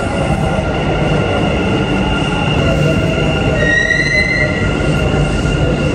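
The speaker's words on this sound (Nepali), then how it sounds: "मेट्रो आयो युए एक्सचेन्ज जाने" A metro train rumbles loudly nearby, with wheels screeching and high metallic squeals rising as it pulls in, steady and close throughout.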